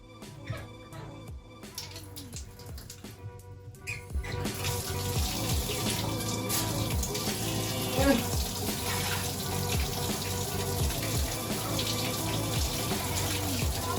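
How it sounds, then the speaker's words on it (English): A tap runs steadily, water splashing into a basin with a constant hiss after a quieter start, with faint handling sounds mixed in. "I'm gonna put the water on"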